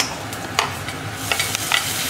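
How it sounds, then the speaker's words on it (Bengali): Onions sizzle in a hot pan while a utensil stirs and scrapes a few times, close and clear. "এই যে পেঁয়াজটা ভাজা হচ্ছে, এটা লাল লাল করে ভাজা হবে"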